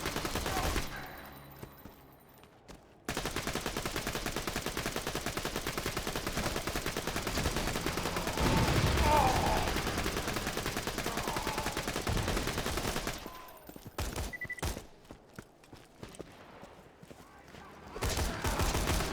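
Sustained automatic gunfire rattles almost nonstop in the video game Borderlands: The Handsome Collection, loud and dense with brief gaps and bursts of explosions, as a game voice calls out over the shooting.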